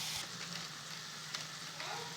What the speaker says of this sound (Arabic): هحط لها عليها وافضل اقلب واسيبهم على النار على الهادي لغايه ما تستوي الكبده خالص